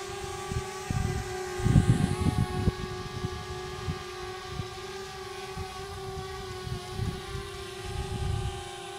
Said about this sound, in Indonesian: Saya goyang-goyangin dikit, maka drone-nya akan pulang ya.